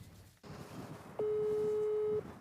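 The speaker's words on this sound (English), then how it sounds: "Phone calls ring out, messages go unanswered." A phone call ringing out unanswered: a single steady electronic ringback tone lasting about one second, heard over a low background hum.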